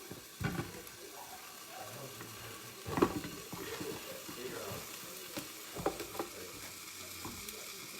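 Sausage browns in a pot with a faint continuous frying sizzle, broken by a few soft utensil knocks and stirring scrapes, and a voice is faintly present at times.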